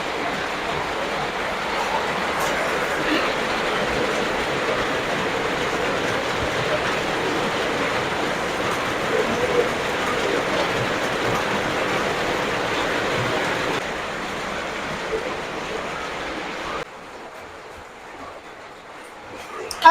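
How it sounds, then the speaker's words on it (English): Steady rain pours outdoors as a continuous broadband hiss, loud and unbroken for most of the stretch before dropping to a quieter patter near the end, with no talk. "it's raining already"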